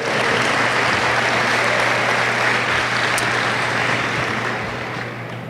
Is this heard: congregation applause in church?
yes